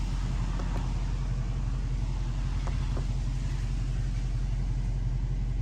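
A 2014 Dodge Challenger R/T engine holds at high revs in park, a constant, close, rumbling drone with no change in pitch through the clip.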